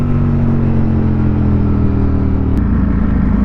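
A 2023 Ducati Streetfighter V4 SP2 motorcycle underway, its engine a loud, steady droning hum with a slight pitch drop and a brief click near the end, wind noise mixed in.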